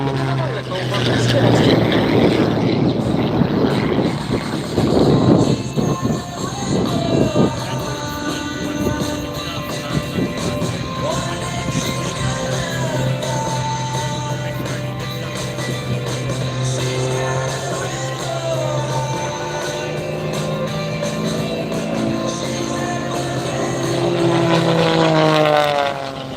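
Airshow performer Nathan's propeller airplane flying an aerobatic routine at Wings Over Muskego, engine pitch rising and falling in long sweeps as it passes, with someone talking over much of it.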